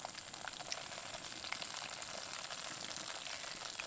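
Batter for a sweet frying in hot oil, a soft, steady low sizzle with small scattered pops, fairly quiet and continuous, with no voices.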